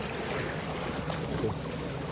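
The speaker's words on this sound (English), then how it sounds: "Just check out the waves here." Ocean waves wash in a steady, continuous broadband rush with no distinct breaks, filling the whole stretch at a moderate level with no talking.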